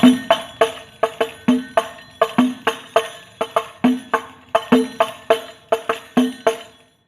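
Hadroh frame drum played in a steady repeating pattern of the 'tarik kunci 2' stroke, each sharp hit ringing briefly before the next, close and loud with no voices.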